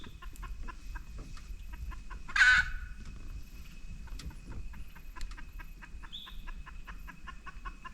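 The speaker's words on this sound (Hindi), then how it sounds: "अचानक एक जंगली मुर्गे ने अलार्म कॉल दी" A jungle fowl gives an alarm call from the grasslands of Jim Corbett Park, a short burst of sharp squawking cackles over a faint, steady insect and ambient background, with a few distant bird notes.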